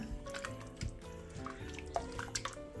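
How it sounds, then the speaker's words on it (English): Cooked Swedish meatballs stirred inside an Instant Pot, wet squelching and light scraping of a spoon with scattered soft clinks, quiet and close, no voices. "Let me go ahead and get it stirred around just a little bit."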